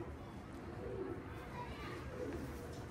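Pigeons on a rooftop loft give soft, low cooing calls in a couple of brief rounds, fairly faint against a murmur of background activity and distant chatter.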